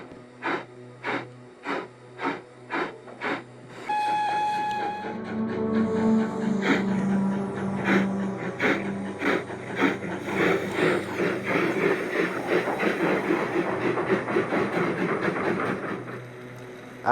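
A train running: sharp, evenly spaced clicks at first, then a steady rolling rumble with repeated clacks, moderately quiet and with no voices.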